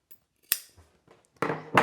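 Scissors snip through the layered fabric tops of trouser pockets: a couple of sharp, close cuts separated by quiet handling noise, with no voices.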